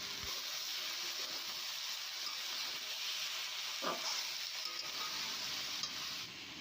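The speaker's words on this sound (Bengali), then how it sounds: "এবার ছোলাটা দেব, দিয়ে হালকা নাড়াচাড়া করে মিশিয়ে নেব" Chickpeas are stirred into shukto, a Bengali vegetable dish, cooking in a pan, under a constant faint sizzle with one soft scrape of the spoon midway.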